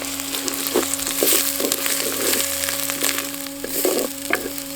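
Shallots and garlic sautéing in a pan for a Tamil sundakkai tamarind curry, a steady close sizzle with occasional stirring scrapes and clicks throughout, no talking.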